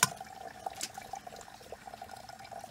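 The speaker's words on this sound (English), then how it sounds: "here's a quick demonstration of my little trickling ram pump right here" Water trickling from a small hydraulic ram pump, a faint, steady light splashing with a few brighter drips and gurgles, close by and quiet.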